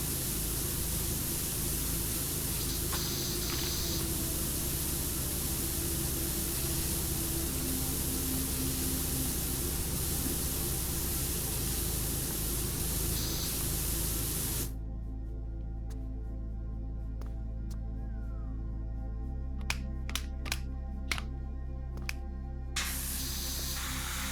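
A steady, loud hissing pressure-washer spray in the video game PowerWash Simulator runs for most of the clip, then cuts to a quieter hum with a few sharp clicks near the end.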